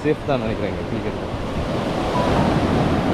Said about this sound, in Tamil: அலை வருது, பட் ஆனால் திரும்ப ரிட்டர்ன் வந்து இழுத்துட்டு போகாது.